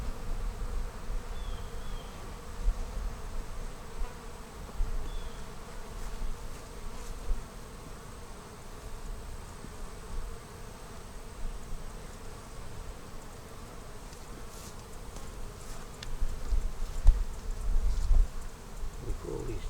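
Bees buzz continuously around a hive, a dense low droning hum with individual insects passing close, fairly quiet and steady throughout.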